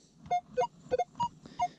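An X-Terra metal detector gives a series of short electronic beeping tones at varying pitches in the field, quiet and roughly evenly spaced, with no talking.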